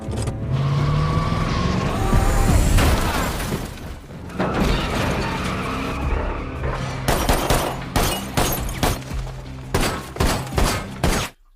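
Pistol gunfire in a dramatic film scene: loud, sharp shots cut through a rumbling, crashing action mix, then come as a series of distinct, evenly spaced reports toward the end.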